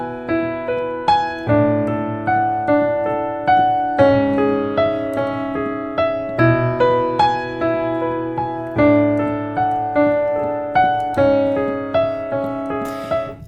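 Solo piano plays a repeating arpeggiated riff in a steady rolling rhythm, close and clear, with chord changes every couple of seconds and no voices.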